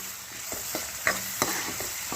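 A spoon stirs a sizzling tempering with asafoetida and turmeric in a pan for a greens and peas curry, giving a steady close fry hiss broken by a series of light scraping taps.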